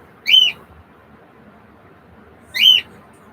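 A pet bird gives two identical high, clear whistled calls, about two seconds apart, loud and close against a quiet indoor background.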